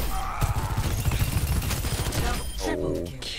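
Mercy's pistol in Overwatch 2 fires in a rapid, steady stream of close, loud shots lasting about two and a half seconds, then stops and gives way to brief in-game sounds.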